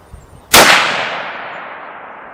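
A single sharp, loud report from a Winchester XPR 6.5 Creedmoor rifle cracks once and rings out in a long decaying tail outdoors after a quiet lead-in.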